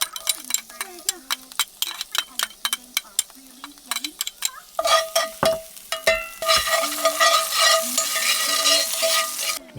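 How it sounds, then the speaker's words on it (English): Garlic sizzles and fries in a pan during van camping near Joshua Tree, with a utensil scraping and clinking in quick strokes before the hiss swells louder and steadier; a voice talks briefly. "Let's toss in the garlic."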